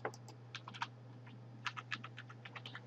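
A password is typed on a computer keyboard during a setup: soft, quick key clicks in two short bursts, close and quiet, with no talking.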